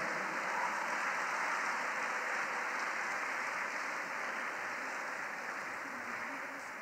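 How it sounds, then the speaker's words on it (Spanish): Audience applause at a book presentation ceremony as gifts are handed to guests, a steady, even wash of clapping that holds throughout and fades slightly at the end. "Un aplauso, por favor."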